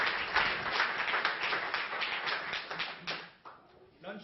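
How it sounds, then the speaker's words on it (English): Audience applause during a conference plenary session: dense, steady clapping from many hands throughout, thinning and fading near the end. "I would kind of like us to give a big round of applause to everyone."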